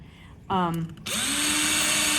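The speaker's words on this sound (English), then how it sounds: "Now with a drill, I can kind of hollow that stuff out that way" A power drill whirs up to speed, stutters briefly, then runs at a steady high whine while hollowing out dried plaster, loud and close with no talking.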